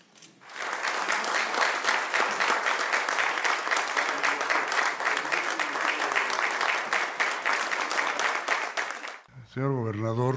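An audience at a signing ceremony for an addiction-prevention council agreement in Querétaro breaks into sustained, even applause that fades in quickly, holds for about nine seconds, then cuts off as a voice begins speaking.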